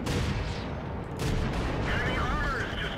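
Tank cannon fire in World of Tanks, with a Panzer IV and an M4 in the fight: loud, dense gunfire and booming blasts run throughout, with a sharp burst near the middle and a voice partly mixed in.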